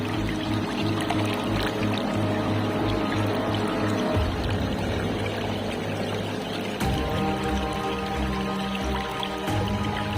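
Cold mountain stream water flowing steadily along a forest trail on the way to the summit of Gunung Sunda, a continuous close rushing wash with no pauses, and no one talking over it.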